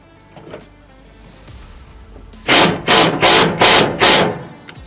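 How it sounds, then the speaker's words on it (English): An impact wrench drives a screw beneath a lawn mower during a steering repair, giving five loud, evenly spaced mechanical bursts in the second half after a quieter stretch of low background noise. "Now you can get under here with your impact wrench and drive away, get up under that screw in."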